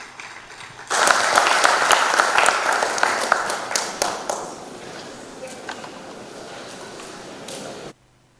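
An audience at a veterinary association scientific symposium in a Ugandan hotel breaks into loud, sustained applause that swells quickly and then thins into scattered clapping for several seconds before cutting off abruptly.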